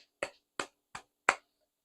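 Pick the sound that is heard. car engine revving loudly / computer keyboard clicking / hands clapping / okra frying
hands clapping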